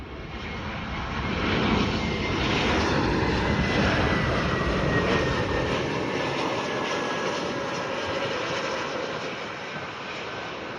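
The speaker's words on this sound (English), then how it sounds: "On my radar was an Airbus A321. You know, the airline's coming for landing." A United Airlines Airbus A321 jet on its landing approach roars loudly and steadily overhead, a broad engine rumble swelling after the first second and holding throughout before easing slightly near the end.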